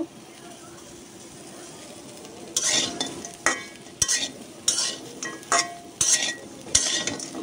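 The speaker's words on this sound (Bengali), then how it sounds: "আস্তে আস্তে আমি ভাজা নিব শুটকিগুলা।" Dried ghonia fish frying in a kadai over lowered heat, starting with a quiet low sizzle before a run of regular scraping stirs and light clinks of the spatula against the pan, close by.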